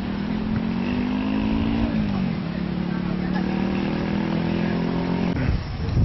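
A Vedett semi-sport motorcycle on the road gives a steady, close engine drone with some wind rush, holding an even pitch that dips briefly midway and again near the end.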